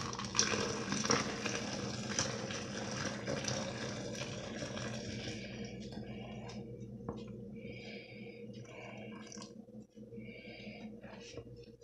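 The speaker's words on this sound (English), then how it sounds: "then we'll just go ahead and pour your water into the pitcher here." Water pours into a pitcher while an Arnold Palmer is being made, a continuous liquid rush that is fuller at first and then thins to a gentler trickle with faint splashes, close by and without speech.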